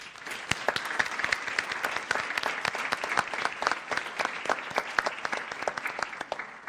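Applause from a conference audience for the speakers and staff, a moderately sized crowd clapping with distinct individual claps audible, fairly quiet and steady for the whole stretch.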